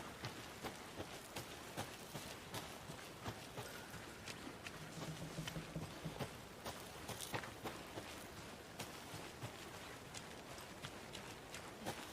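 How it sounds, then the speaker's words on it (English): Rain in the video game Alan Wake 2 falls at a crime scene as a steady patter across the whole stretch, with many crisp irregular drips and taps on surfaces at a moderate, close-sounding level. "Our crime scene's drowning. I never minded rain."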